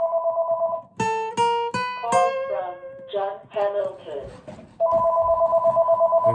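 A telephone rings loudly during a guitar lesson, a steady warbling electronic ring at the start and again at the end, with a person talking in between.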